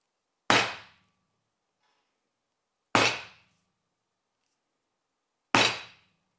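A stitching chisel hammered into a leather bifold wallet to mark stitch holes, three sharp, loud, isolated strikes spaced about two and a half seconds apart, each decaying quickly into silence.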